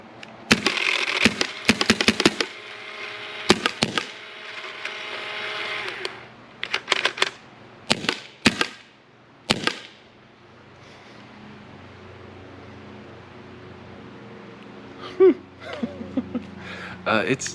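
Sharp, snappy shots from an N4 Odin paintball marker fired in a quick burst of about a dozen, loud and close, followed by a quieter stretch with a few faint clicks near the end.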